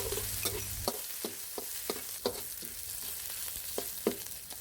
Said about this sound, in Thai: ใส่พริกกระเทียมที่เราตำเอาไว้ลงไปผัดให้หอมก่อนนะครับ